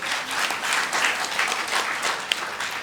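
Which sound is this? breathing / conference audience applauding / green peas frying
conference audience applauding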